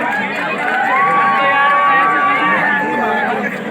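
A large crowd at a public speaking event hoots and cheers loudly and continuously, a dense roar of voices with a sustained whistle-like hoot rising above it.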